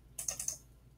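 A few quick keystrokes on a computer keyboard, four soft clicks in a short burst, close and quiet.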